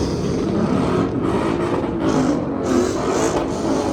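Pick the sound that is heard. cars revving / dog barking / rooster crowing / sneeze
cars revving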